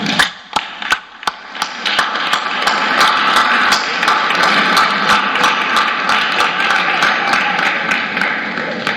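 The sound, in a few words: applause for Teletón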